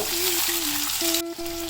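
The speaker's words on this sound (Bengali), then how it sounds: "এবার প্রথমে রসুনটা এর মধ্যে দিয়ে দেব। রসুনে একটু লালচে রং ধরার পরেই পেঁয়াজটা এর মধ্যে দিয়ে দেব।" Garlic and onion fry in hot oil, giving a constant close hiss of sizzling for the whole short stretch, with a steady low tone running beneath it.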